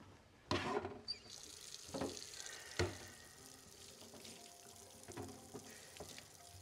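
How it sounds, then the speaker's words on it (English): Water runs from a tap into a sink while a cup is rinsed and washed, with a few sharp clunks and splashes over a steady stream of running water, fairly close. "Still know how to wash dishes"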